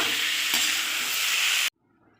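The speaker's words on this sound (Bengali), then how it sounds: "জোরে দিয়েই জাল দিয়ে ভেজে নিতে হবে।" Loud, steady sizzling of ridge gourd frying in hot oil on high heat, a faint stir clatter near the start, then it cuts off abruptly into near silence.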